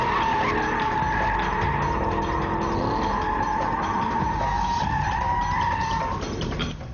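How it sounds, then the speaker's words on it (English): A 600 horsepower Shelby car drifts on a skid pad, tires squealing continuously and loudly over the roaring engine for several seconds, fading slightly at the end. "When you have a 600 horsepower car, drifting it is going to be high on your priority list."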